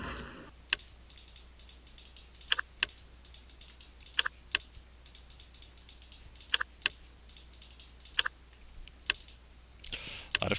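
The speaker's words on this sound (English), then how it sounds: "A lot of clicking, as usual." Mouse clicks and keyboard taps during a Capitalism 2 game session come as scattered sharp clicks at irregular intervals over a quiet, humming background, close and distinct, with no talk.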